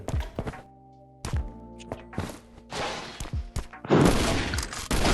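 Gunshots in the survival game Last Island of Survival: a handful of separate sharp bangs and thuds with short gaps between them, then a louder, denser burst of fire near the end.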